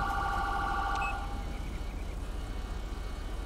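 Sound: police siren in a video game

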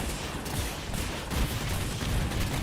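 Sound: tank firing in a video game

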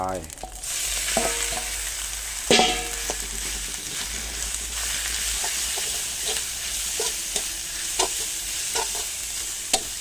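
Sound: rat meat frying in oil for rat curry

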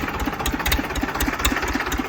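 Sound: tractor engine idling

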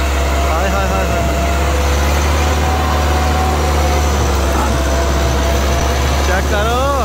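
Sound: Massey Ferguson 385 tractor engine pulling heavy loaded trolley

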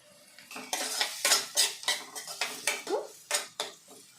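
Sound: sautéing onions in a pan

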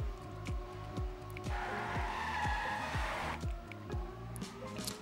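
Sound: race car driving in a racing video game

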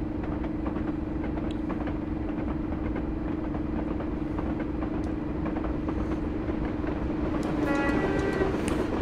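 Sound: Black 5 locomotive passing with a freight train

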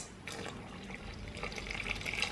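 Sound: water poured into Jamaican chicken soup

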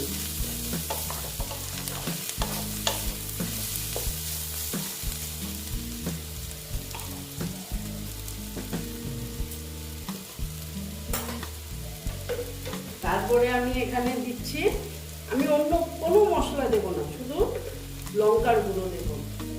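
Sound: dried loitta fish frying in a pan

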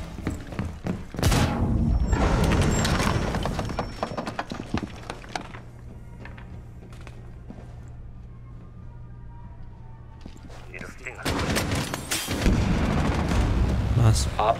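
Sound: nitro cell detonation explosion, Rainbow Six Siege video game

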